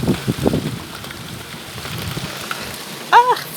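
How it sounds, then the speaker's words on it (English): Heavy rain falling outdoors, a steady dense hiss with scattered louder patters throughout and a brief sharp chirp near the end. "Look at the rain."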